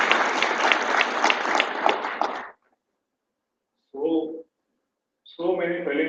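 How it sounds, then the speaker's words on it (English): A crowd at an alumni meet claps briskly for about two and a half seconds, then stops abruptly; after a silence, someone speaks in two short bursts. "Have a clap."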